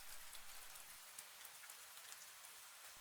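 Rain falls steadily during a storm, a soft, even hiss of drops on a surface, faint and continuous with no voices.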